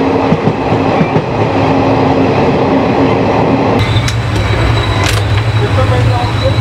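The Shaktipunj Express on the Howrah to Ranchi line rumbles steadily along the rails toward Raniganj, with a continuous low roar that deepens partway through and gains sharper metallic squeals and clatter.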